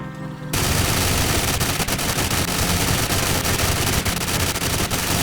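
Rapid, nonstop automatic gunfire from an overpowered gun build in the game Sulfur erupts after a brief pause and keeps roaring loud and close for several seconds, with no talking.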